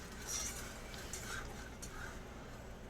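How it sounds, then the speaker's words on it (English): Milk being stirred steadily in a pot on the stove, soft continuous scraping and light clinks of a spoon against metal under a low steady hiss, fairly quiet and unbroken. "And you're constantly stirring."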